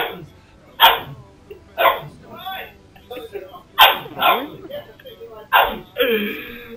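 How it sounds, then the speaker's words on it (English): Small dog yelping and barking in short bursts through a poor-quality microphone, several loud yaps spaced about a second apart, with a person talking between and over them. "Dog? I'm gonna scrap that dog."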